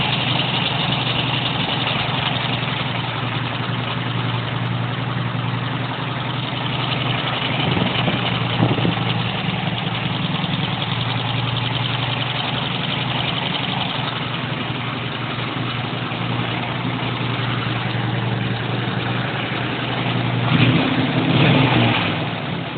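A junk-built offroad go-kart engine idles steadily at close range, its loose parts rattling continuously throughout with a couple of brief rises in revs.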